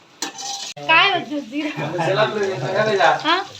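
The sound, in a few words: egg being stirred and frying in a pan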